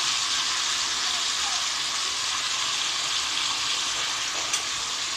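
Eggs fry in hot oil for a lentil dish, a steady, close, bright sizzling hiss that holds evenly from start to finish with no break.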